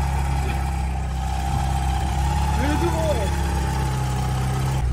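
A VW Polo G40 engine runs at a steady, rumbling idle close by, with a constant low drone throughout and a faint voice murmuring briefly over it.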